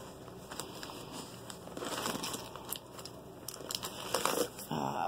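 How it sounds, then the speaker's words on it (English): Close crinkling and crackling of stiff parchment paper being handled, irregular rustles growing louder toward the end. "There's just some more parchment paper."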